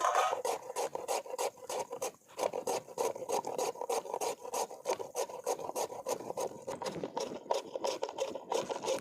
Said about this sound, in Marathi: सगळा भोपळा असाच किसून घ्यायचा आहे आपल्याला